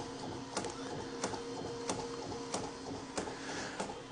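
A 3D printer hums and whirs at low volume, with sharp clicks recurring about every two-thirds of a second.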